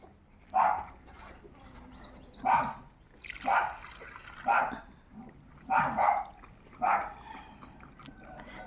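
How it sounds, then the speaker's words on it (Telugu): A street dog named Leo, shut inside a car, lets out six muffled barks at a steady spacing of about one per second, heard from just outside over a low background. "ఆడ అరిసేది చూడండి లోపల నుంచి అరిసేది చూడండి"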